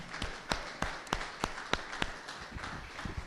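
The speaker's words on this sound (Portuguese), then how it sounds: "Mais palmas" A church congregation claps in a slow, regular rhythm, a sharp beat roughly every third of a second, fairly faint and echoing, with no talk.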